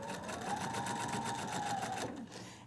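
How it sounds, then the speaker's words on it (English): A sewing machine stitching a quilt block seam from the stitching line to the raw edge, a fast even mechanical whir that runs for about two seconds and then stops, quiet and close. "I sew from the stitching line to the raw edge."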